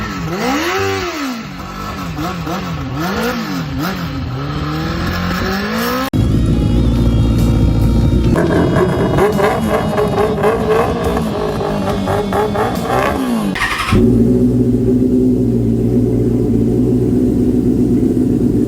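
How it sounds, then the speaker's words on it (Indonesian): Loud 600cc four-cylinder Benelli BN 600 motorcycle with an aftermarket exhaust revving up and down repeatedly, a throaty, rising and falling roar, then settling into a steady, rumbling idle near the end. "menggunakan motor BN 600 ini yang sudah mengganti knalpotnya dengan aftermarket exhaust gitu"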